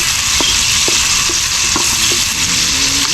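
Garlic sizzling steadily as it sautés in a hot pan for a breakfast dish, a continuous loud frying hiss broken by a few soft utensil taps and stirs, with no talking.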